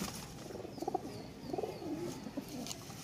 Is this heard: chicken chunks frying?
no